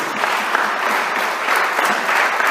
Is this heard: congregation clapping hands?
yes